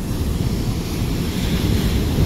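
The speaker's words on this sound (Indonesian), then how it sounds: "Jadi kayak gini ombaknya di pantai selatan itu" Large ocean waves surge and break continuously on a south-coast beach at Watu Pecak, a loud, steady roar of surf mixed with gusting wind buffeting the microphone, no voices.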